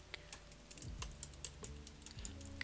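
Python code is typed on a computer keyboard in a run of quick, irregular key clicks and taps, close and fairly quiet, with no voice over them.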